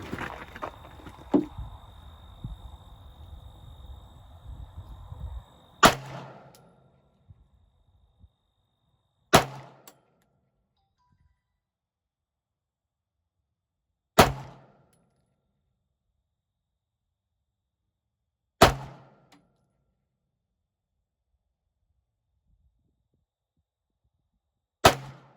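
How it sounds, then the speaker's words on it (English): A pistol with a red dot sight fires five single, sharp shots at a range target, each spaced several seconds apart with near silence in between, after some handling noise at the start. "So now we'll shoot that same target again."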